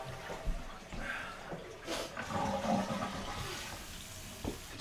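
A toilet flushes nearby, a swirling rush of water that builds and gurgles steadily over several seconds before settling, quiet and with no talk.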